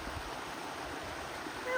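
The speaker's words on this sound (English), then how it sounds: "I call it a little mini waterfall" Steady broadband rush of a small waterfall, a continuous gentle splashing flow with no breaks, fairly close and even in level.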